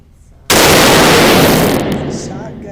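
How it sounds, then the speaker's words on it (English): A shotgun fired once outdoors, a single loud sharp blast after a quiet moment, followed by a long decaying rumble and echo. "It's a shotgun or something."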